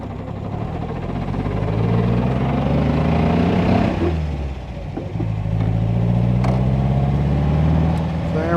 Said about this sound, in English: Right away, the transmission doesn't sound the greatest.